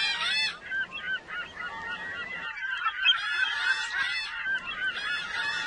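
Gulls call repeatedly in a Second Life virtual world game, a dense flock of loud, overlapping honking cries that pause briefly and then resume.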